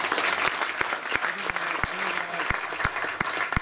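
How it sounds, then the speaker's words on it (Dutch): Big round of audience applause for two honorees at the Time For Heroes 2017 event, sustained crowd clapping with sharp individual claps standing out. "Dus groot applaus voor Matthijs Kuik en Sam Kuik."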